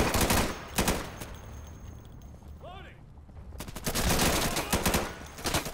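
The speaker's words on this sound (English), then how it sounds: "Why do these guys on our team keep shooting me?" Gunfire in the video game Insurgency: dense bursts of rapid shots at the start and again toward the end, loud and close, with a quieter gap between.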